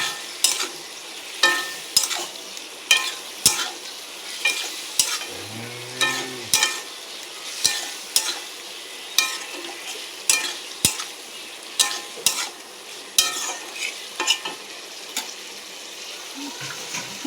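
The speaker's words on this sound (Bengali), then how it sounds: "ভালো করে কষিয়ে নিতে হবে, যাতে একটা মাখো মাখো ব্যাপার হয়।" A spoon scrapes and stirs curry masala with potatoes sautéing in a pan, rhythmic strokes about once a second over a soft sizzle, close and fairly quiet, with a brief faint clink midway.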